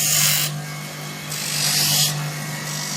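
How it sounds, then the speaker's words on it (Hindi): An optical lens grinding machine runs its rough wheel directly on CR plastic lenses, giving a steady motor hum under bursts of hissing, scraping grind that swell and fade in several short passes. "ये पूरा रफ व्हील है जहाँ पर आप CR को डायरेक्ट ग्राइंड कर सकते हो।"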